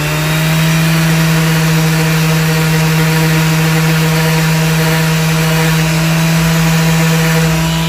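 Sanding freshly glued filler on ABS plastic with 240-grit abrasive makes a loud, unbroken motorized whine with a steady droning tone, continuing evenly throughout with no voices.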